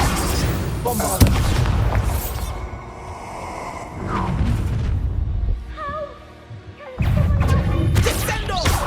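Bombarda spell explosions in the Hogwarts Legacy video game, heavy booming blasts and crashing impacts with rumbling debris, loud and near, separated by a quieter spell chime and some spoken game dialogue.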